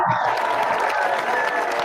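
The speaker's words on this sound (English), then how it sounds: "Let's a little bit of a crowd cheer." A short crowd cheer sound effect plays, a burst of applause and cheering voices that stays steady and fairly loud for under two seconds.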